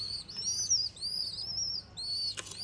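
A bird chick kept at home gives a quick run of thin, high chirps and tweets, close and fairly soft, with brief pauses between calls.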